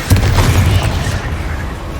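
A Confringo explosive spell blast in Hogwarts Legacy booms loudly with a heavy low rumble, then settles into a steady roaring tail over two seconds with no voices.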